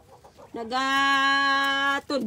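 A backyard farm chicken gives a long, loud, tonal call lasting over a second, close to the mic, with softer clucks before it and a brief squawk after.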